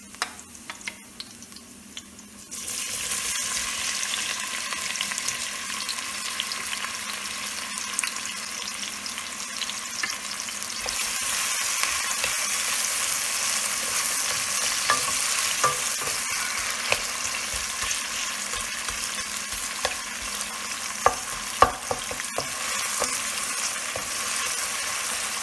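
Onions hit a hot pan for Nigerian meat pie filling, bursting into a loud, continuous sizzle after a quiet start, with occasional scrapes and stirring clicks through the frying.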